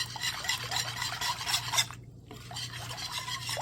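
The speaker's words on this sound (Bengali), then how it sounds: "এখন গুঁড়া দুধ আর কনডেন্স মিল্ক এগুলো ভালো করে মিক্স করে নেব" Powdered milk and condensed milk being stirred together in a bowl before heating, for homemade mango ice cream. Close, steady scraping strokes repeat without pause except for one brief gap midway.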